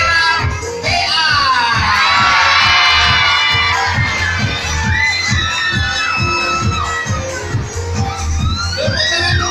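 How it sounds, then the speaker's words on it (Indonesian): A crowd of students cheers, whoops and shouts continuously at a girls' school fashion show, loud and close, with rhythmic clapping pulses running underneath throughout. "Tepuk tangan kembali buat warga 10."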